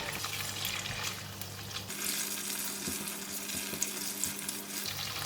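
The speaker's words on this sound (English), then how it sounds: "The oil is just a bit warm, so I'm going to put in the tofu. Just cook them for about 1 minute in the hot oil." Tofu frying in hot oil in a pan for a snap pea stir fry, giving a steady close sizzle with some stirring clatter and no talk.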